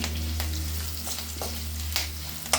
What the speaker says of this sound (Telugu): తాలింపు వేయండి కొంచెం ఇంగు వేసుకున్నాం